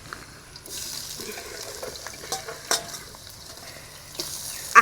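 Chili and meat fry in a pan over a wood fire, giving a steady, close sizzling hiss broken by scattered sharp pops and spatters, with no talking.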